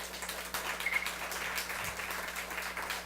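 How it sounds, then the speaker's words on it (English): An audience gives a soft, even wash of applause to welcome Sister Genti, fairly faint and distant, holding steady for a few seconds without speech. "Take a big hand of applause."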